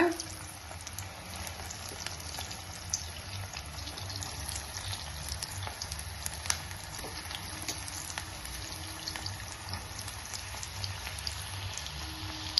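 Paneer kola balls bubble in hot oil over a slow flame, a constant soft crackling sizzle with scattered pops, fairly quiet and steady throughout, with no talking.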